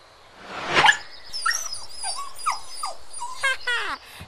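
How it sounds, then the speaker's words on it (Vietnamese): A cartoon dog in an animated fairy-tale film gives a short run of barks and whimpering yips, close and clear, alongside music and sound effects. "Lão ta kiếm đâu ra con chó đánh hơi được vàng thế kia?"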